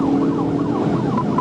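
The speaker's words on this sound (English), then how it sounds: "As the trooper approached and activated his emergency lights and sirens" A police car siren wails in rising and falling sweeps during a truck chase, loud and close over road noise with no talk.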